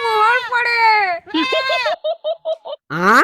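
A goat bleats in a wavering, cry-like voice, close and loud: two long drawn-out bleats, then a run of short choppy bursts and a final rising bleat.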